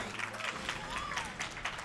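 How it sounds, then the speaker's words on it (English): Audience applause at a speedrun marathon event for The Legend of Zelda: A Link Between Worlds, a steady wash of clapping from a crowd, fairly distant and continuous, with some murmur mixed in. "I think that applause is pretty conclusive there"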